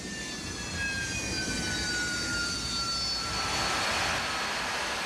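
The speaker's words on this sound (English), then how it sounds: "To accomplish the mission, the Harriers fly low" A low-flying single-engine Harrier jet roars past, its steady broadband jet noise swelling slightly with whining tones sliding downward as it passes, loud and continuous with no voices.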